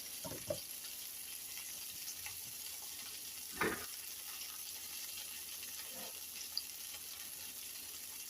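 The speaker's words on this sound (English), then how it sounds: "add my tortellini to my pot of boiling water" Quiet, steady simmering hiss of boiling water in a pot, broken by a few soft splashes as tortellini drop in, close by.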